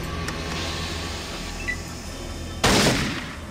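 A single loud gunshot fires in the Fallout video game, a sharp broadband blast near the end that decays quickly over a steady background hum.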